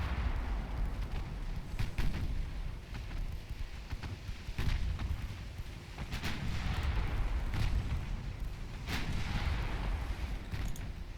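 Heavy naval gunfire from battleships in Ultimate Admiral Dreadnoughts, pre-dreadnought era, with repeated booming salvos rolling over a constant low rumble of sea and engine noise, several sharp reports spaced a few seconds apart.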